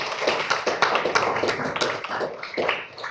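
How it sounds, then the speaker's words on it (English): An audience at a panel discussion on libraries and comics claps for a few seconds, a dense, fairly close patter of many hands that tapers off near the end. "I hope that was applause for Dan and not applause for me"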